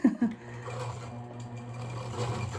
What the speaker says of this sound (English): I just go back and forth on my sewing machine 5 or 6 times